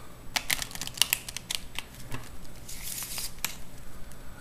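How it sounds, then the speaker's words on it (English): A deck of playing cards gets a bridge shuffle: a run of quick crisp clicks and flicks as the cards riffle together, then a soft whirring cascade, close and moderately quiet. "Let's give it a, even a bridge shuffle,"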